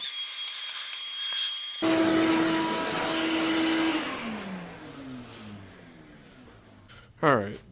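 A ShopVac shop vacuum switches on with a sudden loud whooshing roar, then winds down, its whine dropping in pitch as the motor slows, ending with a short sharp noise; a voice is heard before it starts.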